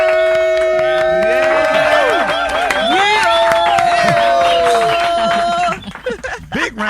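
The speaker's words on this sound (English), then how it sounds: "Big round of applause." A studio audience at a morning radio show applauds and cheers for several seconds, a dense wash of clapping and whoops layered with steady musical tones, then cuts off abruptly near the end.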